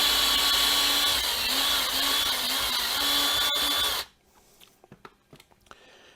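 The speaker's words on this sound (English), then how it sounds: "Then I'm going to take my drill and I'm just going to move it back and forth here and open that up into a slot." A power drill runs continuously at a high, whining pitch as it is moved back and forth to cut a slot, its tone wavering under load, then stops abruptly, leaving a few faint clicks and handling noises.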